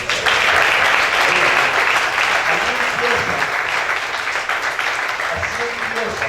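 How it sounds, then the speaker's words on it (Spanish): Church congregation applauding after a sermon line, a dense, steady wash of clapping that starts loud and eases slightly, with faint voices and cheers mixed in. "Denle un aplauso al Señor."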